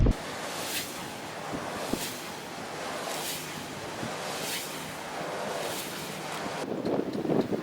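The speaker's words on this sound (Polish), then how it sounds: "im szybciej wieje wiatr, tym szybciej obraca się wiatrak" Wind gusting beside a large roadside wind turbine, a steady roar of wind on the microphone with a regular whooshing swell roughly every second and a half as the blades pass, no talk.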